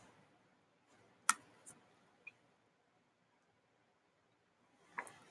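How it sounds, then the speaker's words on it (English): A few isolated, crisp computer mouse clicks sound in a near-silent room, with a small cluster early on and one more after a long pause. "So I'm going to click on this, create a quiz board first."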